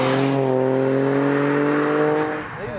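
A 175 bhp 1.0-litre VW Up GTI accelerates hard in fourth gear on a country road, its engine droning steadily upward in pitch from inside the cabin, loud and continuous.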